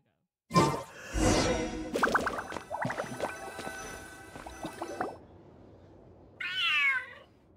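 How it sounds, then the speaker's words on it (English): A cat in the video game Feline Fortress gives a burst of hissing followed by several drawn-out, wavering meow-like cries, close and moderately loud, then a short pause and one last rising yowl. "The cat is hissing at me, Miss Rosaria!"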